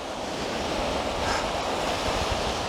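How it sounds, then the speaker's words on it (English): Ocean waves at high tide wash in with a broad, steady surf roar, a swell building around the middle, mixed with gusts of wind buffeting the microphone and no voices. "I'm going to wait for a good wave."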